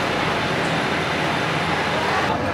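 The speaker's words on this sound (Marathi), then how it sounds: "ठाण्यावरून ट्रेन निघाली बघा" Steady, loud rumbling of a train departing Thane station on the Mumbai–Konkan route, a continuous broad roar with no break and no voices.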